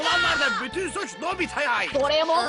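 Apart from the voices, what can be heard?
No everyday noises stand out.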